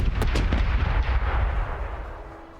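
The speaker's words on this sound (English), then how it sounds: "Starboard is ready to fire!" Ship cannons fire a starboard broadside in the naval game Corsairs Legacy, several heavy booms in quick succession at the start, followed by a long rumbling roar that slowly fades.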